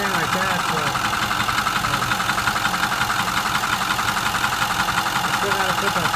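A 2008 Ford F250 Super Duty with the 6.4 diesel idles steadily with a faint rhythmic knock running through its dense, continuous rumble.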